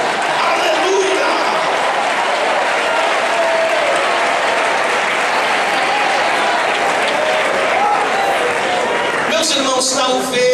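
A church congregation at an overnight vigil claps hard and shouts praise together, a dense, loud, continuous wash of applause and voices lasting about ten seconds.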